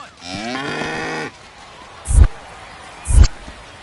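A cow moos once in a drawn-out, loud call inside an insurance ad in the MLB The Show 25 baseball video game, followed by two sharp thumps.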